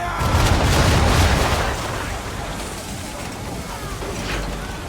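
Naval cannon broadside from Assassin's Creed III, a heavy booming salvo loudest in the opening seconds that then rolls into a long, dense rumble with crackling noise, under faint shouting voices.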